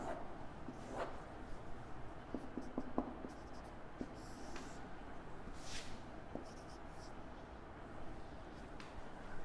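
Marker or chalk scratches and taps across a board during an organic chemistry nomenclature lesson, giving soft, irregular writing strokes under quiet room tone with some speech.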